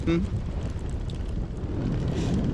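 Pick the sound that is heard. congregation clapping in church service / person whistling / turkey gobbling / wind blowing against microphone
wind blowing against microphone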